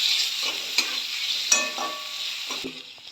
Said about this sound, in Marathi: सगळ्या भाज्या परतून घेते.